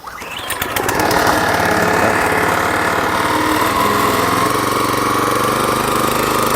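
A Hannong Ssakssuri-Top powered weeder engine revs up and then holds a loud, steady roar at mid-to-high throttle, close by, with no one talking.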